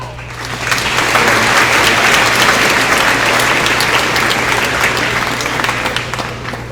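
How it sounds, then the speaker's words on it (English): A large audience at a school Veterans Day assembly at T.L. Hanna applauds loudly and continuously for several seconds, with a dense clapping texture over a steady low hum that eases off slightly toward the end. "Please give our TLHanna family a round of applause."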